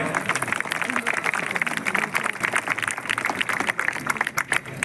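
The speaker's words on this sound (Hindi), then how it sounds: "उस स्ट्रेंथ के लिए जोरदार तालियां" Loud, dense applause from an audience at an event honouring police constables for their courage, sustained throughout with a thick, crackling texture and brief dips near the end.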